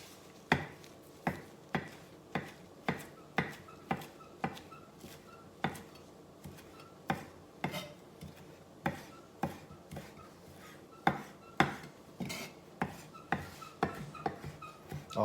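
Steady knife chopping of fresh garden parsley on a cutting board for a bean salad, about two dozen crisp, fairly close taps in a quick, slightly uneven rhythm, with no talking.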